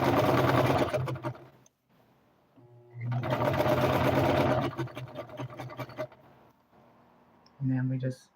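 Sewing machine stitching fabric scrunchies, running in long steady whirring bursts that stop and start, with a final short burst; a voice talks in between.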